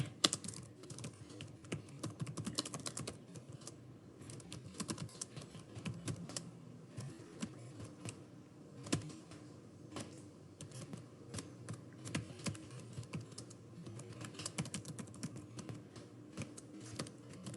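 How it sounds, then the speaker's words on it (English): Continuous typing of an essay on a computer keyboard, a steady stream of soft, close key clicks with occasional louder strikes, carrying on without pause throughout. "you indent using the tab key and start writing your essay"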